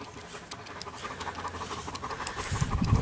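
A long-haired German Shepherd pants steadily and rapidly while being brushed, close and alone, the breathing growing louder and heavier toward the end.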